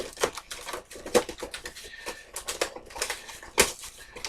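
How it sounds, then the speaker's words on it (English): Toy packaging for a DC Multiverse Red Robin action figure being torn open, with irregular crinkling, ripping and crunching bursts close up and fairly loud. No one talks. "rip it open like a savage"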